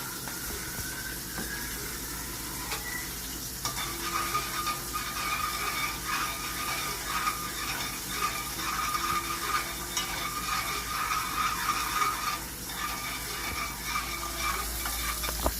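Butter and Old Bay seasoning stirred together in a pan, a steady sizzle under continuous scraping and clicking stirring strokes, close and even for the whole stretch.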